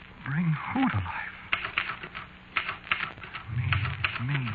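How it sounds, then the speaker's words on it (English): Typewriter keys clack in quick irregular bursts with sharp strikes, set in a 1947 old-time radio drama, with a voice speaking over parts of it. "And the typewriter clacked away."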